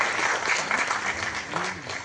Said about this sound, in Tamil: பலத்த கரகோஷம் கொடுங்க சார்